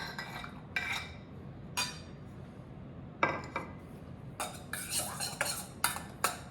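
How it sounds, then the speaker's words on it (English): Salted butternut squash is being mixed in a bowl with cucumbers, with repeated scraping and clinking bursts of a utensil against the bowl, close and fairly quiet over a low background hiss. "We mix them very, very well."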